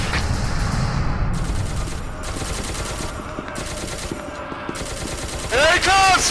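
Rapid gunfire from a firefight in the video game SCP: Secret Laboratory, dense bursts of shots running continuously and loud, with a brief sharp burst near the end.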